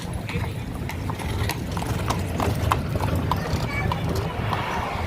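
An Amish horse-drawn buggy clip-clops along a roadside in America, the hooves beating a steady rhythm close by while someone talks over it.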